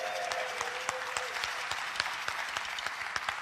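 Steady, dense applause from a live bar-competition audience, many hands clapping continuously with sharp individual claps standing out, moderately distant and filling the room with no speech.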